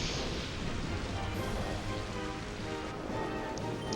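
Rain Dance rain effect in the Pokemon Colosseum video game: a steady, dense hiss of falling rain fills the whole stretch at even loudness, with a soft low rumble underneath and no talk.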